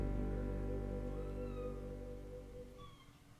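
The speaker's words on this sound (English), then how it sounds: "there's the cat." A cat meows quietly over a steady low hum, one drawn-out call near the middle and a shorter one near the end, with no one talking.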